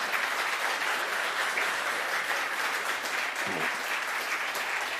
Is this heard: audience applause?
yes